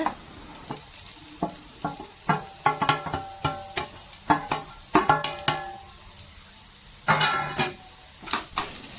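Grated coconut is stirred into softened fried onions and green chillies in a pan for a tuna fish thoran. A spoon clacks and scrapes in a steady rhythm of repeated strokes over a low sizzle, close and without speech.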